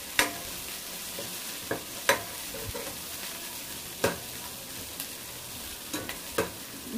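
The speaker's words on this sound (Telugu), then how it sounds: "నెక్స్ట్ ఇందులో కట్ చేసి పెట్టుకున్న బీన్స్ ని యాడ్ చేసుకొని బీన్స్ ని కూడా కొంచెం మగ్గనివ్వాలి" Cut beans cook in a pan for restaurant-style vegetable dum biryani, a soft continuous sizzle broken by scattered sharp clicks and scrapes of a spoon stirring, close by and without talking.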